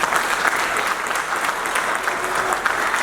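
Wedding guests at an official marriage ceremony applaud the witnesses, a loud, full roar of many hands clapping continuously, close and even with no speech.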